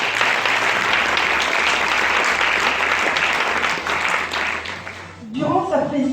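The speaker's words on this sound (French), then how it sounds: "Je crois qu'on peut l'applaudir déjà." Sustained applause fills a town hall awards ceremony honouring a long-serving sports club president, steady and dense throughout before a voice begins speaking at the end.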